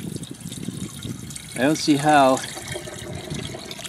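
Water dribbles and trickles steadily from an old cistern pump, a soft, continuous wet splatter close by, with a voice speaking briefly over it.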